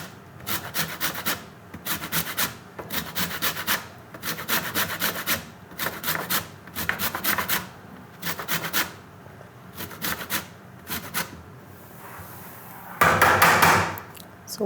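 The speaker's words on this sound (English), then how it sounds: "you just grate half an orange and half a lemon" A zester grates orange and lemon peel for mincemeat in rhythmic bursts of scratchy rasping strokes, each burst a quick run of close, dry scrapes separated by short pauses.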